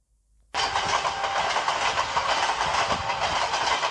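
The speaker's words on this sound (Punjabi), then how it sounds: "ਕਿਵੇਂ ਦੀ ਆਵਾਜ਼ ਕਰ ਰਹੀ ਸੀ ਰੇਲ ਗੱਡੀ? ਛੁਕ ਛੁਕ, ਛੁਕ ਛੁਕ।" A recording of a train running on rails, played back for children, begins after a brief silence and continues as a loud, steady rumble and clatter of wheels and cars.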